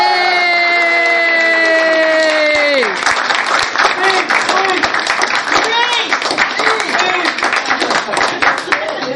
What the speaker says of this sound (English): How about a round of applause for Danny and Dave?